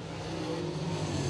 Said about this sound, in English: He brings his Johnny Williams DWB Grand Prix down the front straightaway and starts the clock for his two-lap